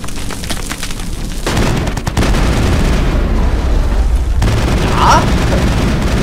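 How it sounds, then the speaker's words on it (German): Enemies in Mass Effect open up with heavy guns, sending loud booming blasts and rattling fire in bursts close by, while someone speaks briefly over the din. "Sie schießen auf jeden Fall schon mal mit stärkeren Geschützen."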